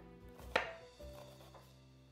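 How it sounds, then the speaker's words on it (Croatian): A knife chops finely cut onion on a board in a home kitchen. One crisp, sharp chop is followed by a softer one, quiet and close, with no talking. "Najprije ćemo rezati sitno kosani luk."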